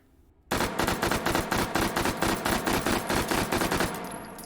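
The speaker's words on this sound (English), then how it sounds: "Sticking with our A5 variant, let's do our 3-round burst before we move on to the 40 and 10mm version." An H&K MP5A5 submachine gun fires in the H3VR virtual reality shooter. After a brief quiet moment, a loud, rapid string of evenly spaced sharp shots runs without pause to the end.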